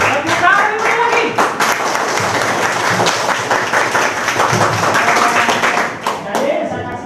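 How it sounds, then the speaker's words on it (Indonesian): An audience claps steadily during a school talk on bullying. The clapping is close and continuous, with a voice speaking over it near the end. "Oke, tepuk tangan. Tepuk tangan lagi."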